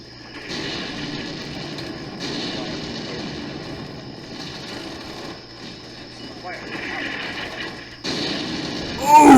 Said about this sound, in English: Love those howitzers.